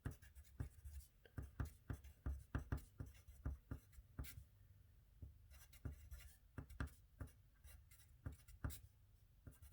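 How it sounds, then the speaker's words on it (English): A pen writes Bernoulli's equation with quiet, close scratches and taps. The strokes come in irregular short bursts with small pauses between them. "We write down Bernoulli's equation."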